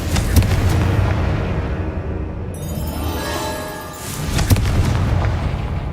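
A Confringo spell blast in the Hogwarts Legacy video game: a loud, sustained booming burst with a brief shimmering whine partway through, then a second heavy blast.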